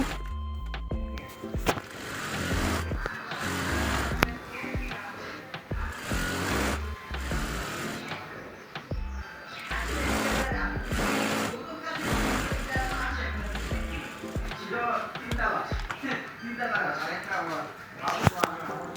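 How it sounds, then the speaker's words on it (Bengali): A sewing machine stitches trouser fabric, running in repeated bursts of a few seconds each with brief pauses between, fairly loud and close, with a voice at times. "কাপড়ের সোজা পাশে দুই সুত পরিমাণ রেখে প্রথমে একটা সেলাই করে নিব"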